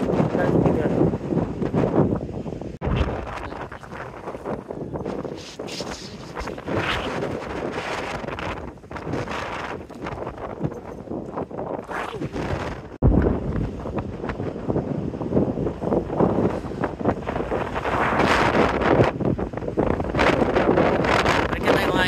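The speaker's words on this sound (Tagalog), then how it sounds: "Gawa ng sobrang hangin" Strong gusting wind buffets the microphone at the Squamish waterfront, roaring and rumbling in uneven surges with brief lulls, loud and close, with water and boats around.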